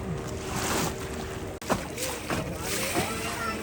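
Speed boat running on open water, heard from a nearby simpler boat as a steady engine drone and rushing water with splashes, under people talking.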